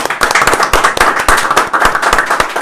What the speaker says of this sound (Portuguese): uma salva de palmas pra Guilherme